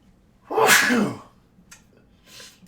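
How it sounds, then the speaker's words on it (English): One loud sneeze up close, followed by a short sniff and a soft exhale. "Hold on, I gotta sneeze."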